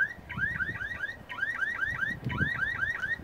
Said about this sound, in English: Then they have this alarm.